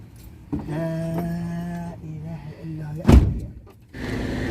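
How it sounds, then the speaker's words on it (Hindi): A car that came to pick someone up at a camp pulls away. A nearby engine hum and tyre rumble run under talk, with a sharp thump or clunk midway and a rushing swell of noise at the end. "ये जो गाड़ी मेरे को लेने के लिए आई थी ये जा रही है वापस"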